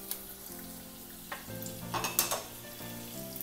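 Green chilli, garlic and ginger fry in hot oil over a high gas flame, with a steady sizzle, several sharp crackling bursts and a few clinks of a utensil stirring in the pan, close and fairly quiet.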